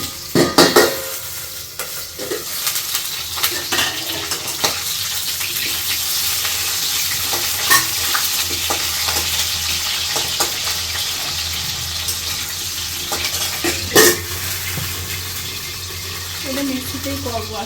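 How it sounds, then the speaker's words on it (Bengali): Potatoes fry in oil in a covered pan, giving a steady close sizzle with scattered crackles and clinks of a utensil throughout. "তো চলো আমি এটা আলুটা ভেজে নিই"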